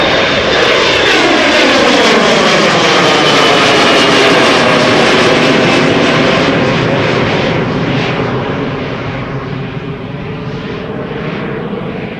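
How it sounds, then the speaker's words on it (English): A KLM jet on departure from Amsterdam Schiphol Airport, bound for Stavanger, roars loud and close in a long sustained engine rush whose pitch sweeps across it, then slowly eases as the aircraft climbs away on a windy day. "And this is KLM Flight 1177 going to Stavanger."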